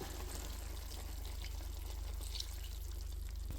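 Soy sauce being poured into a pot of chicken with garlic, whole peppercorns and bay leaves for adobo, a soft continuous trickle and splash heard close up over a low steady hum.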